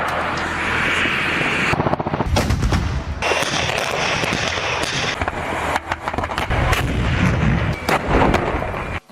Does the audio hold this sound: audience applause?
no